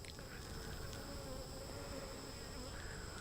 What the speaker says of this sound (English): These are pretty calm bees.